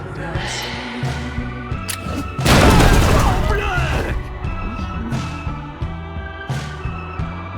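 A grenade blast in the video game Wasteland 3 bursts out loud over the game's rhythmic music, a heavy boom that rumbles and fades over about two seconds.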